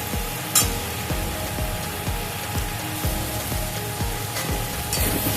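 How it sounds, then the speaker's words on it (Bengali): Spice masala for a Bengali small-fish curry frying in a pan, a close and even sizzle with a regular beat of ladle strokes scraping the pan. "ভালো করে কষিয়ে নেব"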